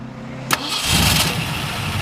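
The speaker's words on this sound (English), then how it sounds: "We'll go ahead and fire it up for you." A 1966 Shelby GT350 Fastback with solid lifters cranks with a sharp click, then fires and settles into a loud, rough, close-up idle.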